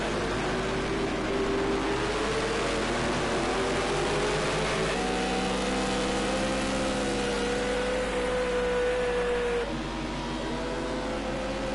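A steady, droning race car engine from Project Cars 2 on PS4 Pro hums continuously, its pitch rising and shifting gradually like a car cruising at speed, with no talking.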